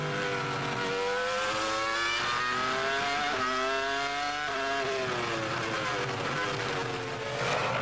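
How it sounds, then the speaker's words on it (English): A Ferrari Formula One engine from the 2002 Hungarian Grand Prix, driven by Michael Schumacher, screams continuously at high revs with rising and dipping pitch through gear changes, loud and close throughout. "Great to hear that Ferrari engine working hard."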